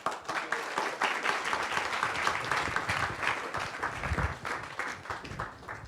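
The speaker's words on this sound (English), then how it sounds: "please give a big round of applause" An audience at a Nityananda Trayodasi temple lecture applauds at the close, a lively, slightly uneven patter of many hands clapping that continues for several seconds at moderate level.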